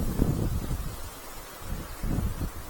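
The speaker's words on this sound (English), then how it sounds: "The wind's just blowing it everywhere." Wind gusting beside the River Nene backwater: a low buffeting rumble against the microphone that comes in uneven surges, with a soft rustle over the top.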